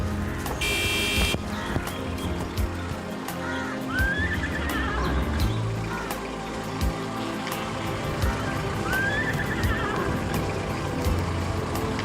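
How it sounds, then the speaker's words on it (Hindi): A purebred mare whinnies twice in an outdoor village setting, each neigh a rising, wavering call of medium loudness over steady background rumble, clatter and ambient noise. "ये घोड़ी बड़ी नस्ली घोड़ी है"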